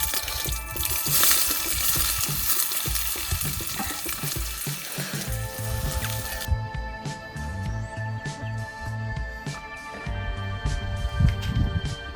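Onion frying in a pan over a wood-fired village stove, a steady close sizzle with stirring running throughout, the hiss thinning slightly partway through.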